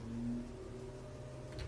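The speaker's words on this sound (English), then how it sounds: "I apologize for the trash trucks outside, if you can hear them going by." Trash trucks pass by outside as a low, steady engine rumble with a faint whine, distant and muffled as if heard from indoors, without any talk.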